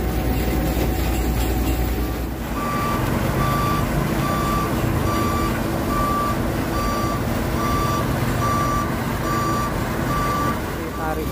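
A tow truck slowly pulls a dump truck out of a muddy swamp, with a heavy diesel engine rumbling steadily throughout and a repeating reversing beep. Light background voices are mixed in.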